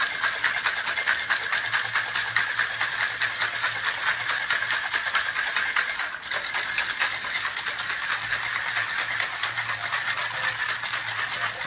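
A gin cocktail shaken hard in a cocktail shaker, giving a steady, dense rattle of ice that runs without a break from start to finish, loud and close.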